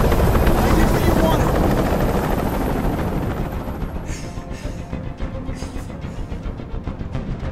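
A helicopter hovers in the video game Detroit: Become Human, its rotor thumping loud and close at first and then fading into a steady rhythmic chop.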